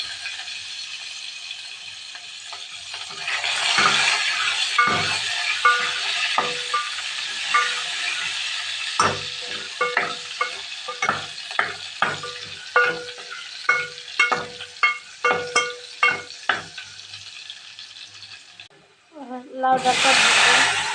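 Onion sizzling in hot oil with dry red chilli and cumin, a steady fry with repeated stirring scrapes and clinks of a utensil against the pan, ending in a louder burst of sizzle.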